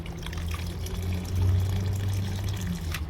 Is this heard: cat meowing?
no